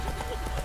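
Horse hooves gallop in the video game The Witcher 3, a brief run of quick, muffled hoofbeats with a voice speaking over them.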